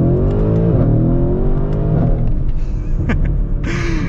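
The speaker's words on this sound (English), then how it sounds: "And the pops you get out of the exhaust are fantastic." A Mercedes-AMG GLC 63 S engine revs loudly and drops through gear changes, ending in a few sharp crackling exhaust pops on downshifts, with no talking.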